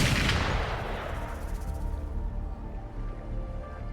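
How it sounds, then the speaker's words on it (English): A burst of rapid gunfire with a booming blast in the game Wuthering Waves, then rumbling, crackling shots continuing at a steady level with no talking. "Gunfire! We've got intruders."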